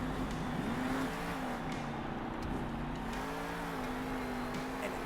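A monster truck engine racing in the video game Monster Jam Steel Titans 2, a steady droning motor with wavering pitch as it takes tight turns and speeds along straights, heard without any talking.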